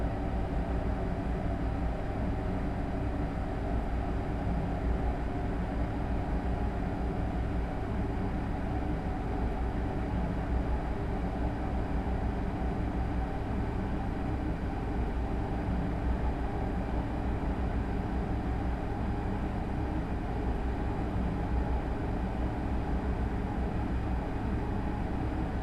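An ICE 1 high-speed train runs through tunnels on the route from München Hbf to Kiel Hbf, giving a loud, unbroken low rumble and roar that holds steady the whole time with no talking.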